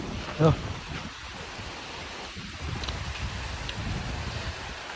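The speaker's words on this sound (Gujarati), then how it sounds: "સરસ મજાનો વરસાદ શરૂ થઈ ગયો છે" Rain falling on a parked car, heard from inside as a steady soft patter and hiss that thickens midway, with one brief louder knock near the start.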